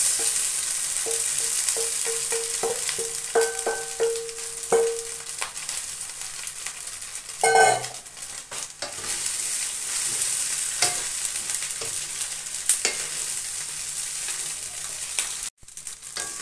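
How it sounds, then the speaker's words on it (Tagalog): Chicken and spices sizzle and fry in a pan while being stirred, with steady crackling, occasional utensil scrapes and clinks close by, and a few brief tonal beeps early on. "I-mix lang natin yung lahat ng ingredients dito"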